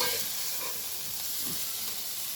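Cooked greens (saag) in a hot pan being taken off the heat, giving a steady, close sizzling hiss with faint stirring, no talk.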